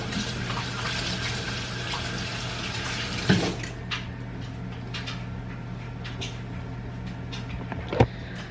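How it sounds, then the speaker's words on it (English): Hands being washed under running water from a household tap. A steady, fairly quiet rush of flowing water continues throughout, broken by a couple of brief knocks. "Let me wash my hands."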